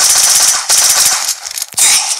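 Rapid automatic gunfire in the Roblox game Prison Life, loud dense bursts of shots with two brief gaps, close and harsh, no talking.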